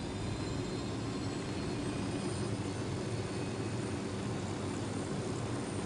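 Steady, unbroken engine drone of a helicopter in the video game Ghost Recon Wildlands, loud and close, constant in level with no pauses, heard alone.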